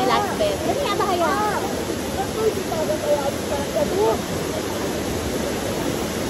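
Tinago Falls pours in a steady, broadband rush of falling water, close and constant throughout, with people's voices faintly audible above it.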